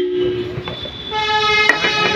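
Horn of an old Royal Enfield Bullet motorcycle being tested, a short nasal tonal honk sounding twice in close succession, loud and near.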